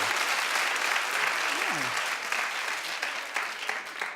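A studio audience claps steadily at a daytime talk show, a loud continuous patter of many hands with a brief vocal sound rising over it partway through.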